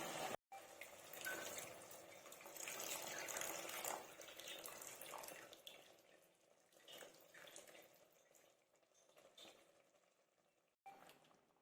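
Tamarind water is poured into a simmering bitter gourd curry, a soft continuous pouring and bubbling splash that fades and thins in the second half, faint and close with no voices.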